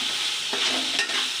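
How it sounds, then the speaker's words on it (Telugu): Ginger garlic paste frying in hot oil, a steady close sizzle with a few stirring scrapes and clinks running through it, no voices. "ఇప్పుడు దాన్ని వేసి కొంచెం ఆయిల్లో వేపి ఇప్పుడు అల్లం వెల్లుల్లి పేస్ట్ వేస్తున్నారు"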